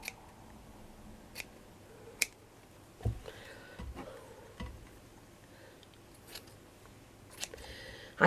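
Scissors snip around the edge of a doily glued to fabric, with sparse, quiet, irregular clicks and cuts in a calm indoor space.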